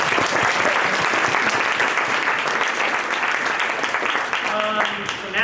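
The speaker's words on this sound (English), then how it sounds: "You can now applaud." Audience applause fills the room after a presentation at a hacknight meetup, steady and dense throughout, tapering slightly near the end.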